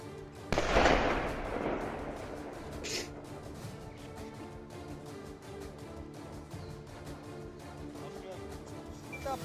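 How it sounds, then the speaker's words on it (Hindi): A single loud controlled IED detonation booms near the start on the Srinagar-Baramulla highway in Jammu and Kashmir, then rumbles and fades into a lingering echo as voices talk over the aftermath. "और जबरदस्त आवाज धमाके की आप सुन सकते हैं।"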